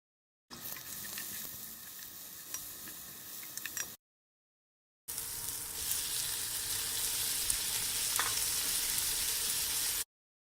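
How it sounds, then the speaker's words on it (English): Onions frying in a pan with ginger, garlic and jalapeno, a steady close sizzle in two stretches split by a brief silence, with occasional stirring taps. "Ginger, garlic, jalapeno. I'm ready to add onions to it."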